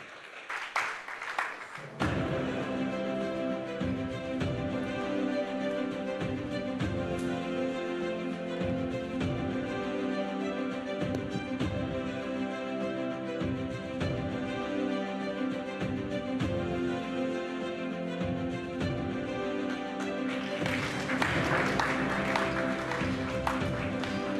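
An audience at the JoyNews Impact Makers Awards ceremony bursts into a short round of clapping, then music plays steadily, with a second swell of applause rising over it toward the end.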